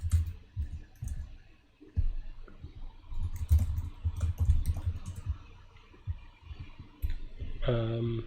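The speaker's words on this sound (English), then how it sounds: "you could see that I'm typing very slowly" Slow, uneven typing on a computer keyboard, with clusters of keystrokes and clicks separated by pauses, and a brief tonal voice-like sound at the end.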